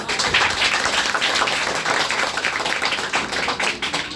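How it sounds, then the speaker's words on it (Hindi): An audience at an opening session applauds, producing a dense, steady wash of clapping that holds for the full few seconds, with no speech heard over it. "ताली बजा दीजिए"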